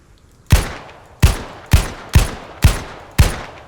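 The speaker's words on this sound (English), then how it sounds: "He's shooting at you guys." Six loud, sharp single gunshots crack at an even pace in the ArmA military video game, each one trailing off in a short echoing tail and standing alone with no voices.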